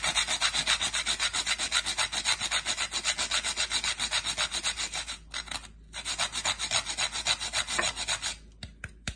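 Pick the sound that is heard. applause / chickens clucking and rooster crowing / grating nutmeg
grating nutmeg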